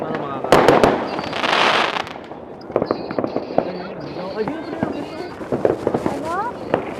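Firecrackers go off during New Year celebrations in the Philippines: sharp bangs and crackling bursts, several loud ones early on and scattered pops after, mixed with people chatting in Filipino.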